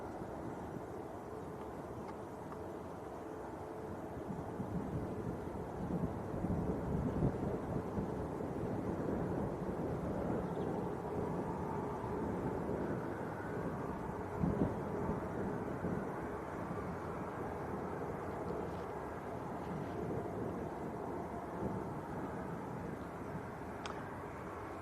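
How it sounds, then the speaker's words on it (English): Airliners from Ryanair and Jet2 taxi out at Manchester Airport, a low, steady engine rumble and roar holding at a distance with some wind buffeting, no talk. "We've got a Ryanair and a Jet2 taxiing out."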